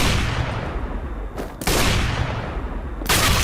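Dense, loud, sustained automatic gunfire in a Minecraft server game mode styled after MineZ and CS:GO, running almost without a break and cut by two brief pauses, with no talking.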